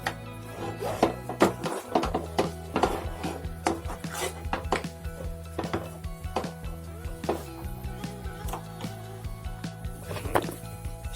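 A spoon scrapes and knocks against a pot while ariselu mixture is stirred off the heat, with repeated irregular metallic clanks and scrapes, fairly close and steady throughout.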